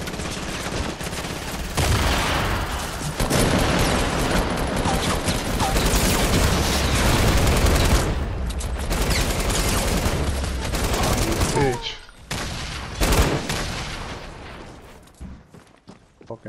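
Dense rapid gunfire in Fortnite on PS4, with bursts of automatic shots and heavy volleys filling most of the stretch, then a brief lull and a few more scattered shots, with faint voices mixed in.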